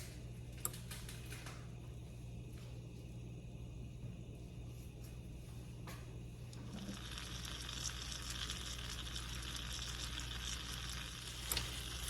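Butter sizzles and crackles quietly in a pan, a soft steady frying hiss that grows slightly brighter partway through, with a few faint clicks and no talking.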